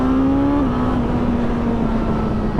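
Engine of a 2022 Suzuki GSX-S1000GT motorcycle under sharp throttle, a loud, close steady drone whose pitch drops once early on and then holds, mixed with wind rush.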